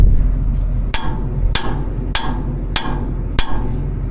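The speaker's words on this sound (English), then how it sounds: "I need a better hammer." A hammer strikes five times in a steady rhythm, each blow sharp, loud and close, roughly every half second or so, during field ripping of a board over a low constant background hum.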